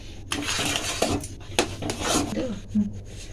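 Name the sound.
stirring rice flour paste in a pot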